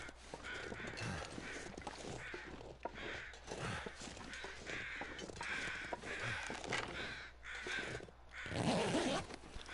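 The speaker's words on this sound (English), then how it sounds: "Way to figure out what these crows are." Crows caw repeatedly in the survival video game The Long Dark, harsh calls spaced over a steady windy background with rustling and footsteps.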